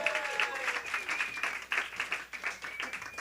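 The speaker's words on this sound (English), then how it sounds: "that's the applause" Faint, scattered applause from a small audience at a live salon talk about the votes-for-women movement, light uneven clapping heard at a distance.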